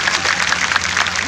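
An audience at a political gathering with former Chief Minister Vasundhara Raje at the Bishnoi temple in Suratgarh claps with both hands, a dense, even patter of applause with a voice faintly mixed in.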